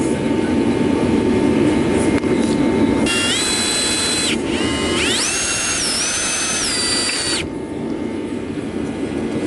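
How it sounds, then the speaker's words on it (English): Drill boring out a previously drilled, stuck bolt with an extractor on a Kawasaki KFX450R quad in a shop, a loud steady whine with two high-pitched rising bursts of squealing cutting, no talk. "That way I can get this drilled out right, it's an extractor, and hopefully get it out."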